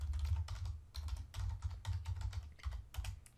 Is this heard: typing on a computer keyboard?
yes